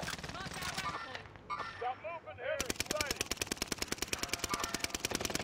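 Gunfire from two teams fighting in a shooter game, rapid evenly spaced automatic shots in a steady stream after an opening stretch of excited talk, with voices continuing over it.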